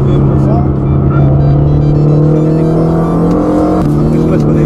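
A Ferrari 360 Modena drives on a circuit, its engine loud and close with a sustained droning note that climbs, then steps at a gear change. Someone talks over it.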